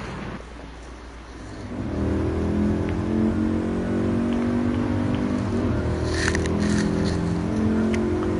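Race cars in GT Sport accelerate hard in career mode, a loud continuous engine whine rising in pitch after a brief quieter start, with a few sharp transient clicks near the end.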